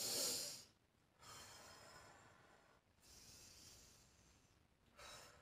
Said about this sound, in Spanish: Cerramos las piernas y hacemos una respiración profunda.